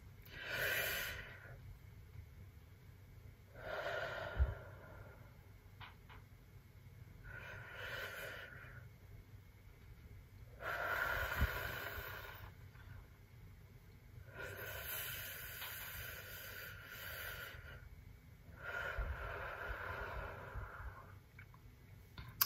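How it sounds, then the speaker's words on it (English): Slow, deliberate breathing by children in a guided breathing exercise: a rhythmic cycle of long inhales and extended exhales, several breaths in a row, close and fairly soft, with no talking. "So we'll breathe in like we're sucking up spaghetti. And then breathe out for 5 seconds."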